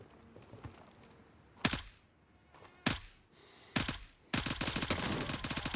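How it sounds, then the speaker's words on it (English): Footsteps in the shooter video game Gray Zone Warfare: a few sharp, hard impacts spaced out over a quiet background, then a burst of rapid rattling steps near the end, fairly faint overall and without any talk. "Those are the footsteps I was hearing."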